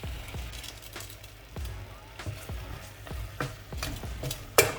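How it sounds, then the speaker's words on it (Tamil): Country chicken sautés in a pan for a cold-remedy soup, crackling steadily while a spoon scrapes and thumps the pan in a regular rhythm, close and alone. "நல்லா வதங்கிருச்சு சிக்கன்"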